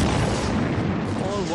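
Torpedoes striking ships and exploding during a German U-boat wolfpack night attack on an Atlantic convoy; dense, continuous rumbling blasts and booms fill the whole stretch, loud and close with no pause.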